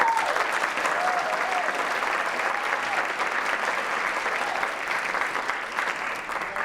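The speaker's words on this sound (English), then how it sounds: "I want a round of applause for the third year that this program has been at the Geffen" Theater audience at the Geffen applauding a program's third year, a thick, steady wash of clapping sustained for several seconds at close range without speech.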